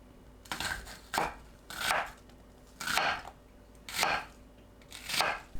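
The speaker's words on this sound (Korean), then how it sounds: "양파를 한 입 크기로 썰어주세요." Knife chopping onion into bite-size pieces on a cutting board, heard as six distinct, evenly spaced bursts of cutting about a second apart, close and fairly quiet, with no talking.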